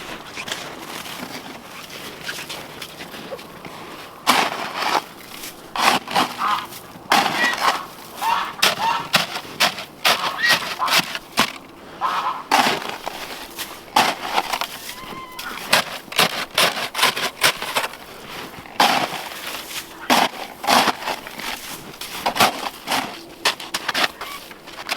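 Snow and sharp ice are scraped and knocked off greenhouse plastic outdoors in winter, with repeated crunching, scraping strokes and dull thumps in an uneven rhythm, loud and close.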